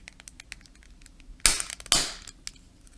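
A Hyundai key fob case for a Sonata, Elantra or Tucson snapping shut during a battery replacement, two sharp plastic clicks about half a second apart over faint background noise.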